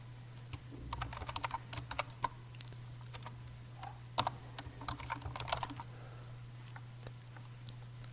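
Someone types a Linux iptables command on a computer keyboard, with quiet, irregular bursts of key clicks over a low steady hum.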